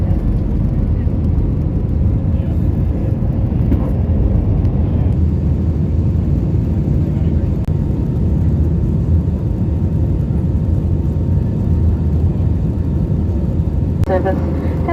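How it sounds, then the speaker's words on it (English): A small passenger plane on a domestic flight from Auckland to Dunedin in New Zealand fills the cabin with a loud, steady engine roar and whir that holds unbroken throughout. "This is the final leg from Auckland to Dunedin, which is near the bottom of New Zealand. Just a little plane to get there."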